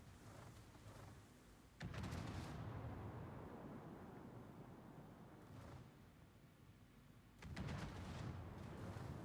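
Battleship gunfire in a tier 3 naval video game, with two heavy booming salvos, the second one about five seconds after the first, each trailing off into a long rumble and heard fairly quietly.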